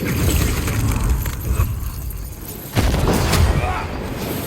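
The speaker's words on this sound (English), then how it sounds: "I really like that explosion upgrade that I did." A booming explosion from an upgraded ability in Banishers: Ghosts of New Eden, a loud burst that swells again midway, with rumbling impacts layered through a dense game soundscape.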